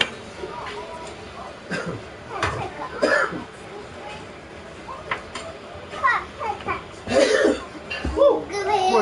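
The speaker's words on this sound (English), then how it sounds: "More of your coughing." Coughing in a home kitchen during cooking, a few short coughs and throat-clearing sounds scattered among chatter, children's voices and background noise.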